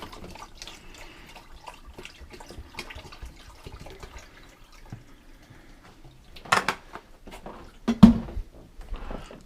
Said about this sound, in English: So now it's filling up the filter with cold water.